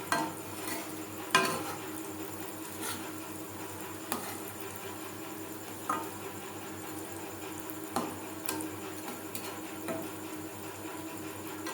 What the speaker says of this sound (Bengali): আমি চপগুলো ভাজছি লো টু মিডিয়াম ফ্লেমে